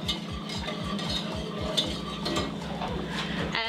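A spoon stirs a thickening sauce in a pot over medium-low heat, giving a regular scraping rhythm of repeated strokes under a constant low hum, close and moderately quiet.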